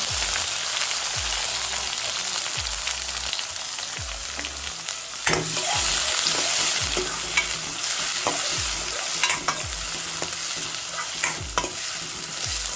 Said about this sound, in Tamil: வெங்காயம் வதங்கிட்டோம். வெங்காயம் வதங்கிச்சு.